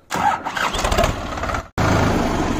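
A New Holland 3630 tractor fitted with a rotavator cranks and fires up, its loud engine catching quickly, rumbling, dropping out for an instant and then settling into a steady, close idle.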